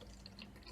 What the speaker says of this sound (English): So I'm going to fill my bottle up